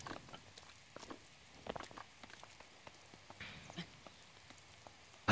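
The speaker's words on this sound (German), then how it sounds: "Hört auch mal auf zu regnen." Rain falls in the game Zelda: Breath of the Wild, a soft, steady patter of scattered drops with faint background and no voices.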